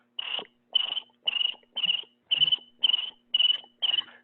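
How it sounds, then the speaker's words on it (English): A crickets-chirping sound effect plays eight evenly spaced trilled chirps in a steady rhythm, clear and fairly loud against otherwise silent surroundings. "crickets in an empty room"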